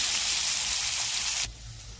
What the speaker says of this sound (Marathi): कांदा आपण आता छान असा भाजून घेऊ